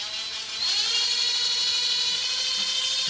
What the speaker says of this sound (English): Drilling a hole right here where this bubble's at.